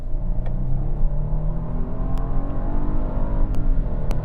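A 2021 Genesis GV80 SUV pulls hard up a highway on-ramp, its engine droning steadily and rising in pitch under a constant whir of road and wind noise, with no talking.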